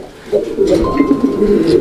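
A Bombay pigeon gives a loud, close rolling coo that starts abruptly and carries on continuously in pulsing waves.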